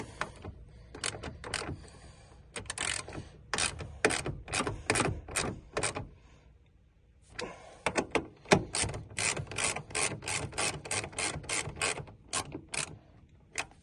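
Rapid ratcheting clicks from tightening the bolts on a Honda Odyssey driver's-side door checker, close and crisp, coming in two long runs of quick strokes separated by a short pause.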